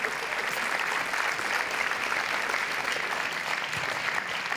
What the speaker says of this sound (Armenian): մի հատ բարձր ծափարենք